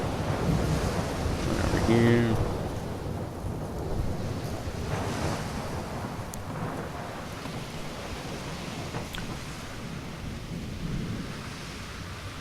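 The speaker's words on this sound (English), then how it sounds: "Nice little thunder bump there." Graveyard ambience built in FMOD Studio: steady wind and a low rolling thunder rumble fill the whole stretch, with a brief muffled voice early on.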